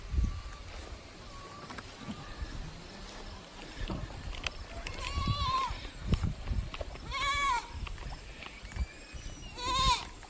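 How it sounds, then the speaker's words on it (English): Goats on a farm bleating repeatedly, with a few calls spread through the first half and a louder, closer run of bleats toward the end over faint outdoor background noise. "You gonna introduce the goats, Mies?"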